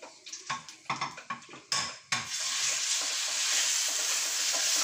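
Veal meat hitting hot fat in a pan on a gas stove: a series of sharp clattering pan-and-utensil knocks, then a loud, steady close sizzle that fills the rest without any talk.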